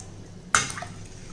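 Water is poured into a pressure cooker holding rice, starting as one sudden splash that quickly fades into a short, soft trickle in a quiet kitchen.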